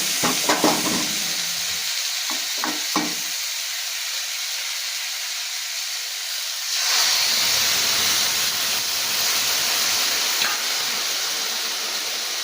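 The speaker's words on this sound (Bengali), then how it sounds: "এবার আমি এটাকে খুব ভালো করে কষবো" Hissing sizzle in a pan with a few utensil clicks early on, then a louder burst of steamy frying as ground spice paste goes in, continuing steadily.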